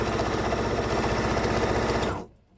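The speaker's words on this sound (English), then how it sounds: "you're going to go all the way down the line, sewing this pant leg together" Sewing machine runs in a continuous fast stitching buzz while joining a pant leg made from a tablecloth, loud and close, holding steady for two seconds before stopping abruptly.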